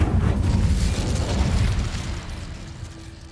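An Incendio fire spell cast in Hogwarts Legacy: a loud, roaring whoosh of flame with a burst at the start that fades over a few seconds into a low rumble.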